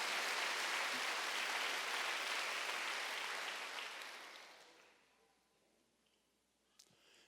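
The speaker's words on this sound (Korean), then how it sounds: "박수로 하나 더 했어요" Church congregation applause at a Wednesday worship service, a dense burst of clapping that holds for several seconds, then fades away, leaving near-quiet with a faint thump near the end.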